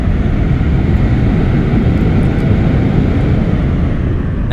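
Airplane engine roaring at full throttle in the AviAssemble flight game, with the landing gear down; a loud, steady, broadband drone that holds constant throughout without breaks.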